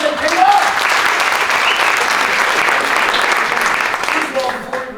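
Sustained audience applause at a Caribbean Mastermind event in Puerto Rico, a dense, steady wash of many hands clapping throughout, loud and close, fading slightly near the end.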